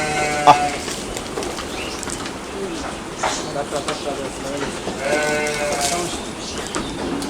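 Barbari goat kids bleating on a livestock farm in Narayanganj, several high, wavering cries close by, repeated throughout while someone talks.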